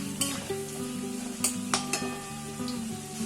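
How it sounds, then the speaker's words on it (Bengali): Potatoes fry and are stirred in a pan while cooking banana blossom curry, with steady sizzling broken by several scraping stirs and light clinks of the utensil against the pan, close and alone. "দু থেকে 3 মিনিট ভাজার পর দেখুন আলুতে সামান্য রং ধরেছে।"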